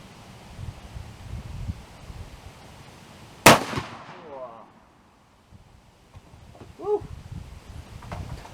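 One sharp, loud report from a CVA Accura LRX .45 muzzleloader rifle loaded with 65 grains of screened powder and Lee 459-500-3R bullets, fired outdoors, echoing and decaying into quiet wind noise.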